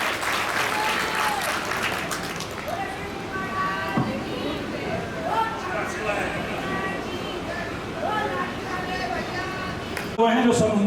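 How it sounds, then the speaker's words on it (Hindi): Loud, sustained applause rises from the audience at an honour ceremony, dense clapping running for about ten seconds with voices and a shout mixed in. "जोरदार तालियों से स्वागत करें।"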